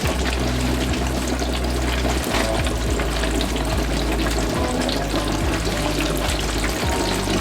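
Mayo and mustard coated pork chops bubbling in a deep fryer at 350 degrees, a steady, close, crackling hiss of oil that continues without a break, with no voices.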